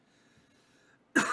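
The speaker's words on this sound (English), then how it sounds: "This is making me cough." A single sharp cough, brought on by incense smoke, bursts out after a stretch of quiet low hum, loud and close, with a short raspy tail.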